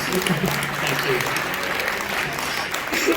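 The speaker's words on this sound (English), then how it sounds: "I think that deserves a round of applause." Audience applause rings out during an interview on stage, a dense continuous patter of clapping with some voices mixed in beneath it.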